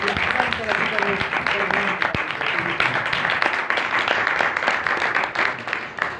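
Sustained audience applause at a religious gathering, a dense steady wash of clapping lasting several seconds, with a voice faintly mixed in at times.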